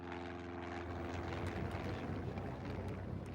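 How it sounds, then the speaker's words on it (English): Steady droning engine of a Cessna light aircraft landing in Red Square, Moscow, a continuous propeller hum with a low tonal buzz, close and constant throughout. "Passers-by watched amazed as a Cessna light aircraft landed in Red Square."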